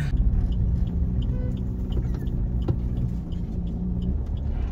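A car drives along a road near Akkalkot, Tuljapur and Naldurg, giving a steady close engine and road rumble from inside the cabin with faint ticking over it and no talk.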